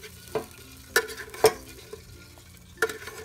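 Sausages are stirred into Alfredo egg noodles in a pan, with a low sizzle under several distinct spatula scrapes and knocks against the metal, close and intermittent.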